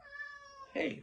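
A cat lets out a drawn, tonal meow close by, followed by a brief breathy burst at the end, fairly quiet overall.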